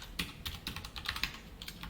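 Code being typed on a computer keyboard during a Java programming lesson, a steady run of quick, close key taps with uneven rhythm and no voice over it.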